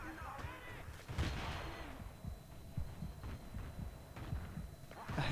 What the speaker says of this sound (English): all I hear is hand grenade explosions